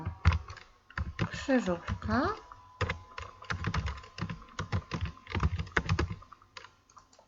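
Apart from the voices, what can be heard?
typing on a computer keyboard to name a Word document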